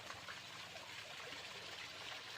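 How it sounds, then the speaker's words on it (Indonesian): Fast water flows through a roadside ditch in a housing area that was once a river, a faint, even rushing and trickling wash heard steadily from a short distance with no voices. "Airnya cukup kencang dan lumayan jernih untuk selokan di sekitar komplek"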